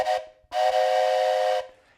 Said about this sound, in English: I blow my trusty toy train whistle